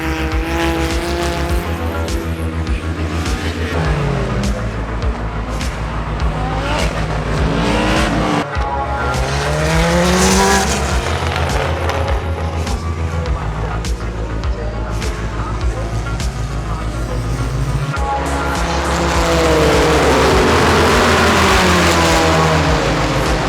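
Race cars scream past at the Mid-Ohio racetrack, engines rising and falling as each one sweeps by, loud and close, with a few cars passing together near the end.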